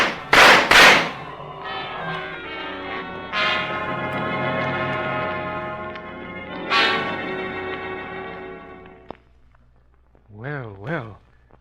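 Two sharp, loud gunshots burst out back to back at the start of an old-time radio adventure drama, then a ringing orchestral music sting swells and fades.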